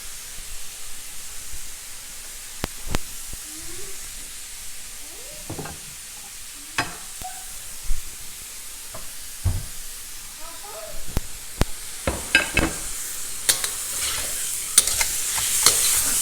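Beef for shaking beef sears in a hot pan, a steady sizzling hiss with intermittent stirring clatters that grow busier and louder toward the end.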